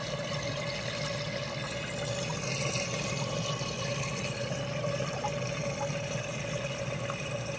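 An aquarium overflow drain with a Hofer Gurgle Buster stock silencer, on an Eshopps PF-800 overflow, gives a quiet continuous trickle and low hum of flowing water without pronounced gurgles.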